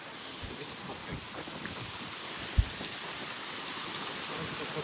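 A steady, soft wash of sea waves on the shore with wind noise throughout and a single brief thump partway through.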